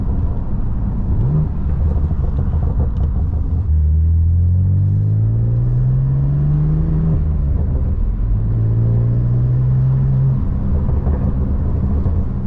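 A BMW M4 Competition fitted with an AWE SwitchPath exhaust rumbles at close range, its engine note climbing in two long rising revs and falling back between them over a deep, steady idle.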